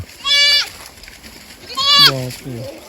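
Two goats from a herd of about eighty bleat, one high and quavering, then another with a lower, wavering cry, with some rustling and talk faintly in the background.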